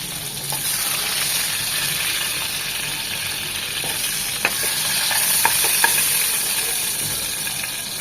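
Pieces of boal fish fry lightly in hot oil, giving a continuous soft sizzle and hiss with a few faint clicks and stirring taps, steady and close with no talking.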